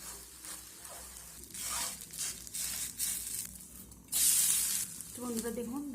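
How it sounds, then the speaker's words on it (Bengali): A snack fries in a hot pan, flipped and pressed down against the surface, giving steady sizzling with crackling bursts and scraping in irregular pulses, close and moderately loud. "উল্টে দেওয়ার পর এইভাবে আমি একটু চেপে চেপে ভেজে নেব"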